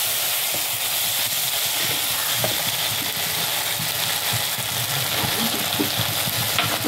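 Soy sauce sizzles in a hot pan of egg Manchurian, a loud, continuous broadband hiss and crackle heard up close with no talking.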